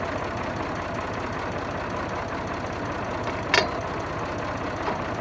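A tractor engine runs at a steady idle, a continuous low rumbling throb with a fast regular knock, close and unbroken, with a brief sharp click partway through.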